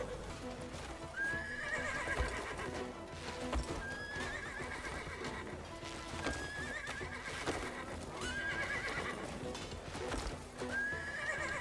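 Horse in the video game Crimson Desert: steady rhythmic clip-clop of hooves with repeated whinnies and neighs recurring every couple of seconds over a busy game soundtrack.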